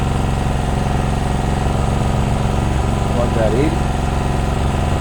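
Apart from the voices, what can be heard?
Ozito 2000W petrol generator engine running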